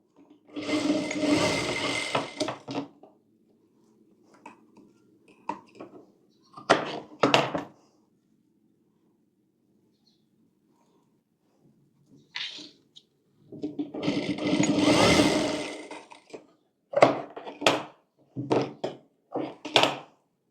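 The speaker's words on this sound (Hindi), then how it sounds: "अब इसे इस तरह से रख कर यहाँ पर हम सिलाई कर लेंगे इस तरह से" Sewing machine stitching a blouse, running in two longer whirring bursts and several short clattering spurts, separated by stretches of near silence.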